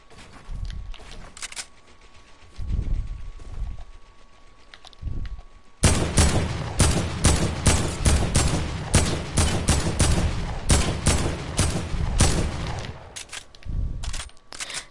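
AK rifle fire in a video game: sporadic shots in the opening seconds give way to a dense, loud run of rapid automatic bursts that carries on to the end, close and dominant with no talk.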